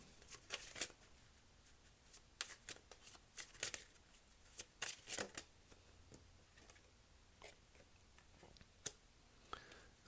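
Tarot cards being shuffled, a quiet, irregular run of soft riffling slaps and flicks in bursts with short pauses, close and alone.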